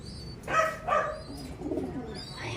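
A blue bar pigeon gives two soft, low coos in quick succession, close by, with faint chirping from other birds in the background.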